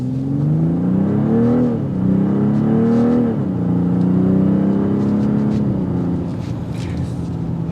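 A 2024 BMW 540i xDrive engine revs hard accelerating from a stop, climbing through several gears, the pitch rising and dropping with each shift, loud and close throughout.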